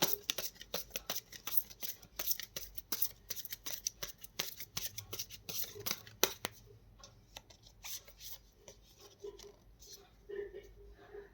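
Tarot cards being shuffled and drawn by hand, with a dense run of close riffling and flicking card sounds that thins out into softer slides and taps. Quiet speech is heard in the background.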